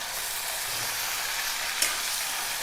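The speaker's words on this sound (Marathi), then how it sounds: "हे थोडं परतून घेणार आहोत" Potatoes sautéing in a pan for South Indian medu vada give a steady, even sizzle that holds at one level throughout, with one brief sharper crackle near the end and no voices.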